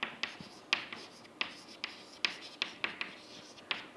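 Pen scratching across paper while the Maclaurin series is written out by hand, a run of short, close strokes and taps with brief pauses between them.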